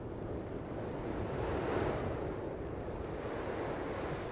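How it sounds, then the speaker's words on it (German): Storm wind and crashing ocean surf from the video game Praey for the Gods, a steady, dense roar of waves and gusting wind that fills the whole stretch at moderate level, with no voices. "Das sollte vielleicht endlich mal aufhören, der Sturm."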